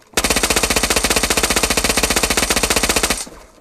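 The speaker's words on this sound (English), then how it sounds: "I shot him and he exploded." Rapid automatic gunfire in an online shooter game, one loud unbroken burst of evenly spaced shots lasting about three seconds before it cuts off, with no voices over it.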